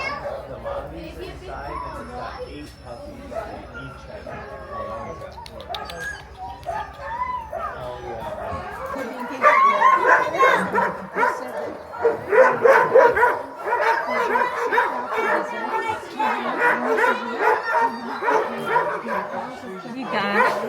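Sled dogs in Juneau, Alaska bark, yip and whimper before a dog sledding run, an excited chorus of many dogs near and far, with people talking among them and the barking growing louder partway through.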